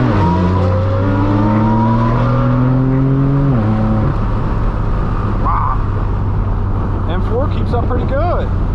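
Straight-piped, Gintani-tuned BMW M4 F82 exhaust roars loudly from inside the car, rising through the revs, dropping sharply at a gearshift, then droning on under excited talk as other cars pass.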